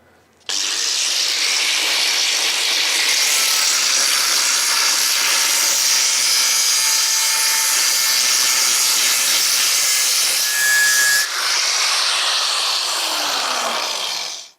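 An angle grinder cuts a V-groove into the metal of an old rusty chassis, a loud continuous high-pitched hiss and whine that holds steady for most of the clip, then shifts in tone and winds down at the end.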